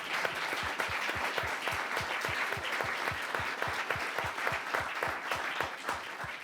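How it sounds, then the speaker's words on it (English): Audience at a medical lecture giving rhythmic applause, with regular strong claps standing out over a softer bed of clapping, moderately distant and continuous. "I'd like a round of applause for our speakers."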